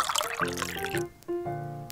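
Water poured while cooking miniature sushi with chicken, a close trickling pour with a brief pause and then another short stream, with no talk.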